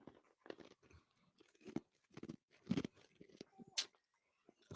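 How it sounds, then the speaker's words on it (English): Ice being crunched between teeth close to the microphone, a series of irregular sharp crunchy bites and chews, with faint talk in between. "Sorry, I'm crunching on ice"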